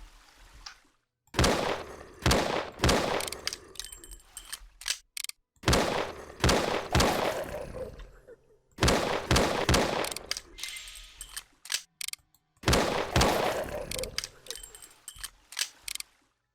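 Enemy gunfire in FPS Creator X10, repeated loud bursts of rapid shots in clusters separated by short silences, sharp and close, with a few single cracks between volleys.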